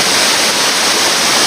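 Curug Nangka waterfall roars as a loud, constant rushing wash of falling water, close by and with no voices.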